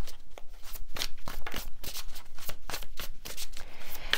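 Rapid, steady riffling and slapping of a tarot deck being shuffled by hand, close and crisp, with no voice over it.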